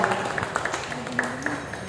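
A church congregation applauds at a worship seminar, producing a dense, steady wash of many hands clapping together with a few sharper individual claps standing out.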